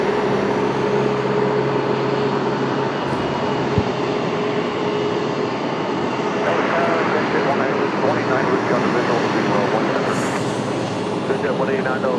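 An Aer Lingus airliner touches down on the runway at an airport, a loud, steady roar of engine and rushing air that fills the whole stretch, with faint radio chatter in the background.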